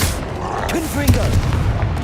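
A Confringo blast spell in the video game Hogwarts Legacy sets off a booming explosion with rumbling low impacts, loud and close, mixed with a spoken voice.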